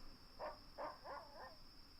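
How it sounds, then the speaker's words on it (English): A dog barking in the Nancy Drew: Secret of Shadow Ranch game, four quick muffled barks at moderate distance over a steady electronic hum, alone without talk. "I hear barking"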